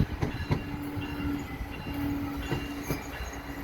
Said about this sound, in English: We got a westbound train